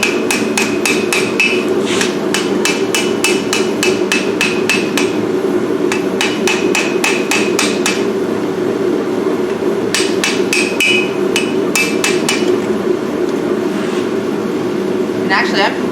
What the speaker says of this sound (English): I think I'm gonna use the ball peen for this too